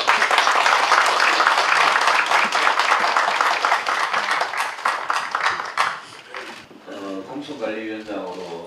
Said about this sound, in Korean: 크게 박수 한번 다시 한번 해주세요.